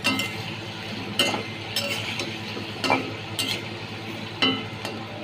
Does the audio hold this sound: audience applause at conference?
no